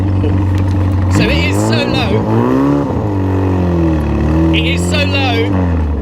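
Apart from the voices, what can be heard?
straight-pipe 1960s Austin Healey hot rod engine while driving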